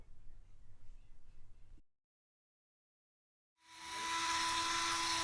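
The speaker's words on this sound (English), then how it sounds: "the manual tells you to drill out a 3mm hole in the servo horn, which is what I'm doing right now" A small high-pitched drill whines steadily after a brief silence, following a low background rumble at the start, drilling a 3mm hole in a plastic servo horn.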